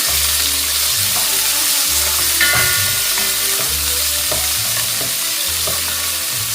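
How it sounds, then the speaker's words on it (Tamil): Onions sautéing in hot oil with fennel seeds give a loud, close sizzle, broken by regular rhythmic scraping strokes of a spoon against the pan, with no talking. "நான் இப்போ எடுத்து வச்சுக்க இந்த வெங்காயத்தை போடுறேன் வெங்காயம் வந்து நல்லா வதங்கட்டுக்கும்"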